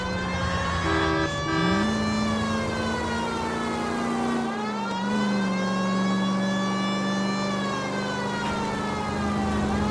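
A police car siren in the LA Noire video game wails loudly and steadily nearby, its pitch sweeping up and down over a rumbling engine, with no voices.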